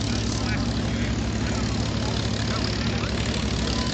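A propeller airplane makes a slow flyby at the Olympia Airport air show. Its steady engine drone holds loud and constant throughout, with people faintly talking.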